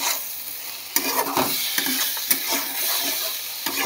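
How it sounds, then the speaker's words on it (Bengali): Chicken frying in tomato sauce in a home kitchen pan, stirred with a spoon: a steady broad sizzle under close scraping strokes, with a few sharp clicks of the utensil against the pan. "এবার একটুখানি নেড়ে নিচ্ছি।"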